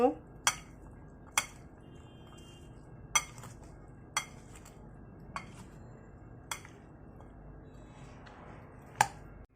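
A spoon stirs and tosses fruit salad in a bowl, giving sharp clinks of metal against the dish every second or so over a quiet background.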